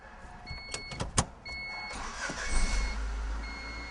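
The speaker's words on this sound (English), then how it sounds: "So, quick start of the car." A car starts during an oil change and settles into a low idle, with sharp clicks and a short beep before the start, then a steady rumble heard alone at close range.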